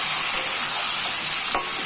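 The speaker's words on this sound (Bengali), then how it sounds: "এবার একটু নুনটা দিয়ে নাড়িয়ে দেবো।" Chicken pieces sizzle in a hot pan as salt is stirred in, a steady, close frying hiss with soft scraping strokes of the spoon and no talking.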